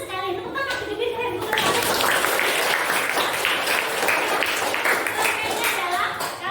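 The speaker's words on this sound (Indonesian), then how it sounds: "Tepuk tangan gede-gede keren." A class group breaks into loud, sustained clapping after a brief moment of voices, with chatter and children's voices mixed into the applause.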